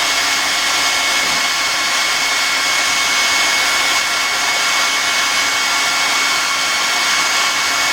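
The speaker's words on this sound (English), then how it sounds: "if you take the hot air gun, and just give it some gentle heat," A hot air gun blows steadily to heat a solder sleeve joining wires, a loud, constant close-up roaring whoosh with no pauses and no talk.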